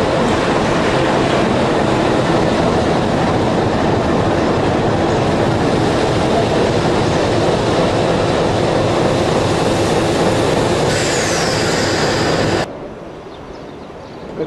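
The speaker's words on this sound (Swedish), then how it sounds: "Här kommer tåget från SOS och ska gå söderut sen." A train in Tunisia, running between Sousse and Monastir, rumbles past close by, a steady loud roar with rattling wheels and a brief high screech near the end before it cuts off.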